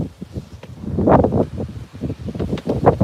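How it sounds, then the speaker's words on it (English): Strong wind buffets the microphone on a beach at night near the water, with gusty rumbling surges that rise and fall throughout. "It's very windy"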